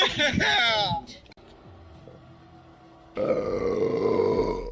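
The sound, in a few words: big burp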